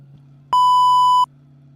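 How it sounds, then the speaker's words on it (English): A single clean electronic beep from a Formula 1 racing video game signals a safety car, sustained for under a second with a steady pure tone over a low background hum. "As we hear another safety car beep"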